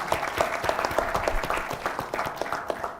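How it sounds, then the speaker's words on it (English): Applause from the audience at a healthcare management conclave fills the hall as a professor is introduced, a steady dense patter of many hands clapping for about three seconds. "A big round of applause for Professor Sanjay."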